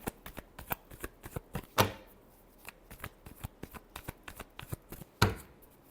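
Tarot cards are shuffled by hand in a quick, rhythmic series of crisp riffling flicks, with two louder slapping bursts, close up and with no talking.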